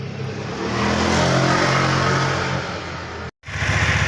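A carbureted Honda Vario scooter engine idling and revving smoothly up close, with no ticking noise, a steady buzzing drone that briefly cuts out near the end before resuming.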